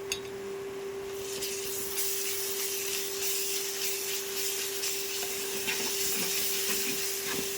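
Ginger garlic paste fries with sliced onions in a pan for a prawn and raw mango curry, giving a steady loud sizzle and crackle with stirring scrapes, alongside a constant background hum and no talk.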